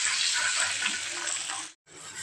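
Potatoes sauté in a little oil in a pan, a steady close hiss and sizzle that cuts out briefly near the end, with no talking.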